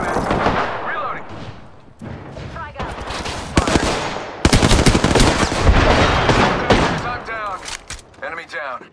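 Heavy automatic gunfire rattles in Apex Legends, long loud bursts of rapid shots growing denser and closer over time, with in-game voice callouts heard between the volleys.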